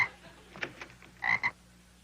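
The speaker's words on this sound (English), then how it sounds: "I found these 2 frogs swimming in the cement pond." Two frogs found swimming in a cement pond croak in short, separate bursts, a couple of clear near calls over a quiet background.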